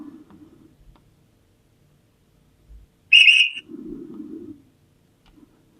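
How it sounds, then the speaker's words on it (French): A single short, shrill departure whistle sounds from an HO-scale SNCF model train station effect, a clear high blast followed by a faint murmuring sound, in otherwise quiet surroundings. "Voilà cette annonce et ce coup de sifflet vraiment bien sympathique."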